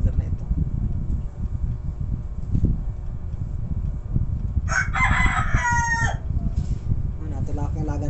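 A farm rooster crows once, loud and close, on a Sunday morning over steady low rumbling background noise, with a person talking briefly afterward.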